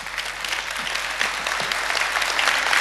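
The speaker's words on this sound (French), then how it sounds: "on les accompagne d'un applaudissement" Audience applause at a French televised Eurovision selection show, a dense steady burst of many hands clapping that swells slightly toward the end, with no talking over it.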